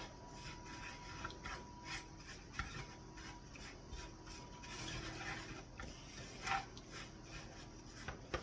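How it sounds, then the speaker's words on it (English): A spoon stirs and scrapes a pineapple and coconut mixture browning in a pan on the stove, a soft continuous rubbing and scraping with faint sizzle, quiet and close. "As you can see, it's getting nice and lightly browned. Again, keep stirring it."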